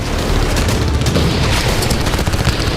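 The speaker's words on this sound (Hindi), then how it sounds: "हिजबुल्लाह लड़ा के बिरकत के एकदम पास जा पहुंचे और रॉकेट लॉन्चर से हमले कर रहे हैं।" A rocket launcher attack on Israel's Birkat base, heard as a dense, continuous roar of booming blasts and rumbling detonations, loud and sustained with no clear gaps.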